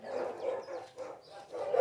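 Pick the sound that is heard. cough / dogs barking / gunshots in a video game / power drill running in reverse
dogs barking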